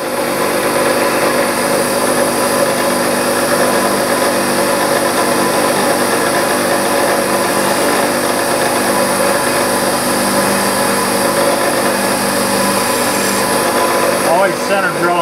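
A machine drills clearance holes in a metal workpiece for a model spool valve engine, giving a steady, continuous whine and hum throughout, with a voice talking over it.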